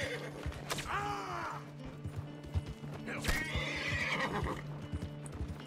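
An agitated Piebald Tobiano Hungarian Halfbred horse in the video game Red Dead lets out two loud whinnies, one after another, over a constant low in-game ambience with hoof clops.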